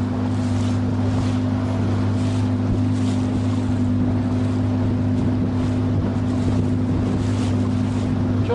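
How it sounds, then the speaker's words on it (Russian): A motorboat engine drones steadily and loudly nearby on open water, a constant low hum with wind and splashing over it throughout. "Сейчас лодка будет меня обгонять"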